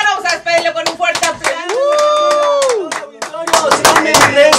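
A studio crowd gives a radio guest a round of hand clapping, quick uneven claps that run around and through a sustained sung voice in the middle.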